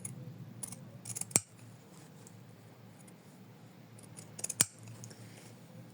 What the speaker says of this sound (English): And then we cut all the layers together on the other sides.